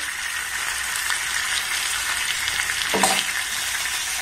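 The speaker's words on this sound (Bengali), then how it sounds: "এবার গ্যাসের ফ্লেমটাকে লো টু মিডিয়াম রেখে এটাকে আমি একটু হালকা করে ভেজে নেব" Potatoes fry lightly in a pan over a low-medium gas flame with an even, close sizzle throughout, and a brief clink or stir around the three-second mark.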